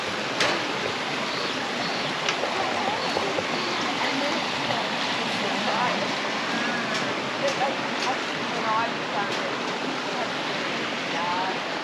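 Small waterfalls at the Katherine Hot Springs pools give a steady, broad rush of splashing water that stays close and even throughout, with no voices heard.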